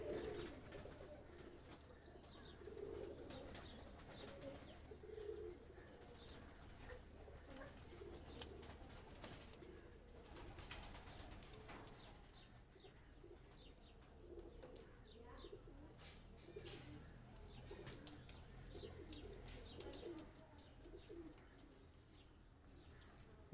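Pakistani high flyer pigeons, red birds, coo softly in repeated low, rolling calls. The calls are faint and distant-sounding against a quiet background, with no speech.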